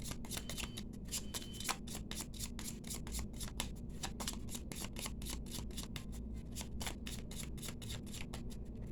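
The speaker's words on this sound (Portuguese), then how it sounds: "Vou embaralhar para você que escolheu aqui este baralho, estas cartas." A deck of tarot cards being shuffled by hand, with a steady run of crisp, rapid riffling clicks and flutters over a low background hum, close and continuous with no talking.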